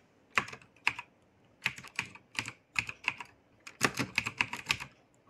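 Typing on a computer keyboard, close and fairly quiet, with short clusters of crisp key clicks separated by brief pauses.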